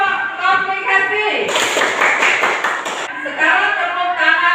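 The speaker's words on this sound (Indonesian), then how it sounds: "Tepuk tangan untuk kelompok komplikasi." In a junior high school classroom, students clap for one group in a brief burst of fairly loud, rapid applause lasting about a second and a half, with a teacher's voice speaking before and after it.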